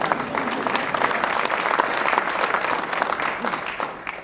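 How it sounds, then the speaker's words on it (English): Steady, dense audience applause from a performing arts conference crowd, continuous clapping at an even level with no break. "We can clap for that"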